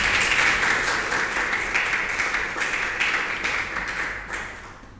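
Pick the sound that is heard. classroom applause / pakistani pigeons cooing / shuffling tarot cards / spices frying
classroom applause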